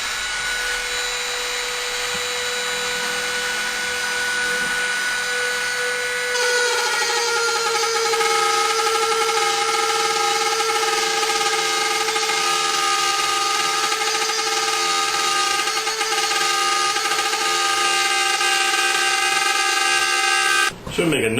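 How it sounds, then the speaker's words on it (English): A power tool routs the binding channel around the back edge of a handmade guitar body, a loud steady high-pitched whine that grows harsher as it bites into the wood, running continuously close by. "I'm going to have to cut to house that binding. And we'll do the first pass."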